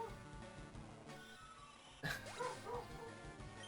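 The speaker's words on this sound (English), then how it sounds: "My brother's dog is barking in the background." A dog barks and yips faintly in the background of a room during video game play, a short burst of a few yaps under steady game music.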